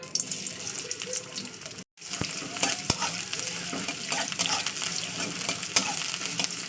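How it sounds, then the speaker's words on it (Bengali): Onions frying in hot mustard oil in a wok, a steady broadband sizzle with scraping stirs and a brief cut to silence partway through, no voices. "তোমার তেলটা গরম হয়ে গেছে আমি তেল দিয়ে দিচ্ছি পেঁয়াজটাকে"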